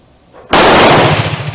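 A single loud, sharp rifle shot from a Swedish Remington rolling block 1867/89, fired close by on a shooting range, with a sudden blast after a quiet moment and a rumbling decay trailing off.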